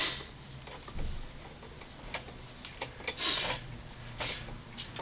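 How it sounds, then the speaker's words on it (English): A clamp is tightened onto a tubeless motorcycle tire and rim during debeading, giving faint scattered ticks and clicks with soft rasping rubs, close but quiet, with no talk. "you can start clamping it down"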